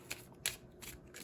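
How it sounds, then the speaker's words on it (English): Tarot cards being shuffled, a few quick soft riffling bursts close by, faint and with no talking. "I have no idea why I shuffled."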